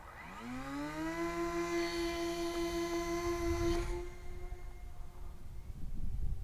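The twin tractor motors of an ESKY Mini EYAS II 750mm RC plane whine as it is launched into the wind. The motor pitch climbs, then holds as a steady buzzing drone before fading away, with wind noise behind it.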